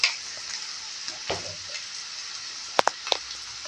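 Onions sizzle steadily in a pan for a Kerala-style onion curry, with a soft stirring scrape and a few sharp clicks of a spoon against the pan near the end, and no voices.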